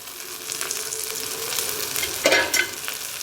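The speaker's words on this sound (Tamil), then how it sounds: "ஸோ போட்டுக்கிட்டு நல்லா வதக்கி விட்டுக்கலாம்" Fresh mint and coriander leaves sauté in a hot pan for a chutney, giving a steady close sizzle with stirring scrapes and a couple of brief louder rustles near the end, with no voices.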